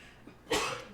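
One short, sharp sneeze bursts out close by, a sudden explosive puff of air that quickly trails off.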